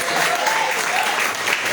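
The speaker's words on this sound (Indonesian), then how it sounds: "Tepuk tangan." An audience applauds at a Maulid celebration as a first-place winner is announced, a dense, loud burst of continuous clapping that is close and steady.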